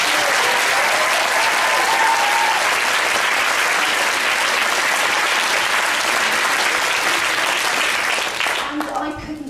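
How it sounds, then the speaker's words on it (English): An audience at a live comedy evening claps loudly and steadily for about eight seconds before the applause tapers off. "Give them a huge clap."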